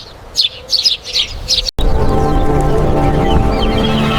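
Sparrows chirp in quick, bright bursts over a wheat field, several close calls in a row before a steady broad hum takes over.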